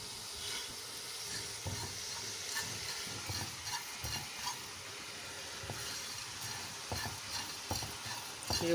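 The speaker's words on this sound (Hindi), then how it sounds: "ये मसाला मैं भून रही हूँ" Masala with mutton and potatoes being stir-fried for aloo gosht, a steady broadband sizzle with scattered scrapes and clinks of stirring, close and moderately quiet, no talking.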